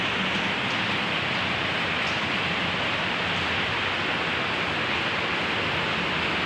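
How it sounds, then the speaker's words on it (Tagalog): Heavy rain pouring steadily, a dense, constant roaring hiss with no breaks, loud and close, with no voices audible. "Lakas ng ulan."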